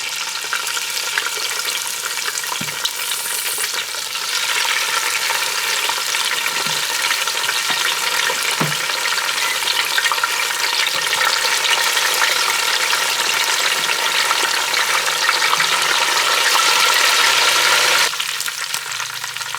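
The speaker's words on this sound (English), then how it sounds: "now we're ready to fry the fish" Loud, steady sizzling of fish frying in hot oil, close up and continuous, with a few faint clicks of utensils early on.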